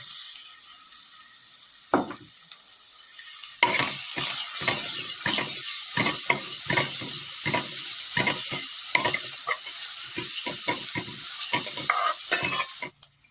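Crab meat with fennel, cardamom, cinnamon and cloves sizzles steadily in a hot pan, broken by repeated scraping strokes of a stirring spoon, loud and close, with no talking.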